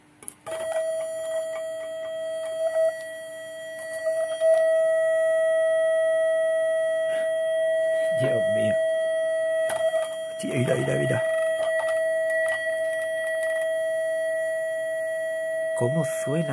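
A steady, piercing electronic whine from a toroidal coil, with a few faint overtones, holds throughout, while brief bursts of rustling and handling noise come and go.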